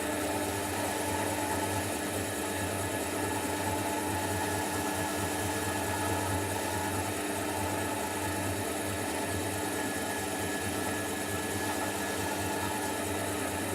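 A woodturning lathe spins steadily with a workpiece drying between finish coats, giving a continuous, even motor hum and faint whir throughout, with no talking.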